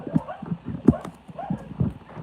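Horse Ellie walking, hooves clip-clopping in a steady rhythm at close range, with a soft snort and a rider talking quietly over the footfalls.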